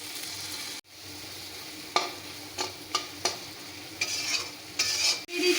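Fried potatoes go into a masala sizzling in a pan for a katla fish curry, with a steady hiss broken by several close spatula scrapes and stirring knocks, and no voices.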